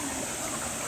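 Cool mountain valley stream water rushing steadily at Daeunsan, a continuous close wash of flowing water with no voices.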